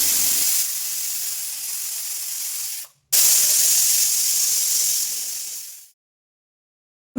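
A pressure cooker holding pulao rice with whisked yogurt lets out two long, loud steam whistles, a hissing blast cut by a brief pause, then silence.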